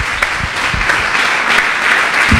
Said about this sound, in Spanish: ¿Qué tal si usted le da un aplauso al Señor?